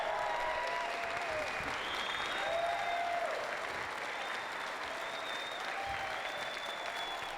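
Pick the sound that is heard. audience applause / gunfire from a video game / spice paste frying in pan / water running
audience applause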